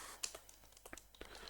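Code typed on a computer keyboard for an Arduino UNO sketch, heard as a quick run of soft, close key clicks at varying spacing, fairly faint and with no one talking.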